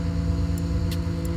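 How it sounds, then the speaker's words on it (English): A steady low mechanical rumble and whine of a crane's hydraulic cylinders straining to raise the boom, with a few brief hissing bursts of air over the drone. "That's the hydraulic cylinders pushing the boom arm up into the sky."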